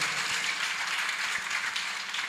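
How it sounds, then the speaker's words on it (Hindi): Audience at a devotional gathering clapping softly and steadily, a faint, diffuse patter of many hands with a few sharper claps standing out. "बहुत ताली पर बड़ी धीरे बज रही है तुम लोगों की"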